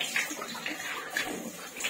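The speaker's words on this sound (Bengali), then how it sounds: "আমি একটু মুখ ধুয়ে দেখি তো কিরকম শান্তি লাগে" Water splashes in quick irregular bursts as someone washes their face at a basin in a resort room, close and moderately loud with no talk.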